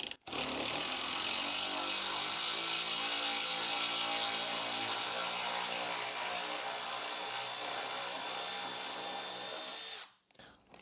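A power tool with a 9/16 socket whirs continuously for about ten seconds while removing a bolt from the wheel spindle of an Ariens Ikon XD, loud and close, stopping abruptly near the end.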